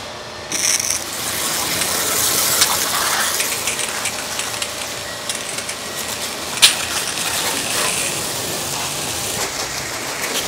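A power spray washer at a car wash hisses steadily and loudly for the whole stretch, a continuous broadband rush with a brief sharp clack partway through.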